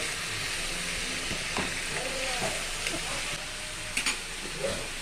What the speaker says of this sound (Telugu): ఆ టమాటా దీంట్లో వేసేస్తున్నాను. వేసేసి మంచిగా కలిపి ఒక 2-3 minutes వరకు పెడతామండి.